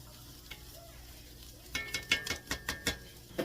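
Minced garlic cooking in a pan, a soft sizzle under a run of sharp stirring taps and scrapes that start partway through, close by and without speech.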